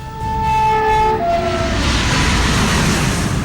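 A train passes in the fog of northern India, its horn blaring a loud two-tone blast before the heavy rumble and roar of the moving cars takes over.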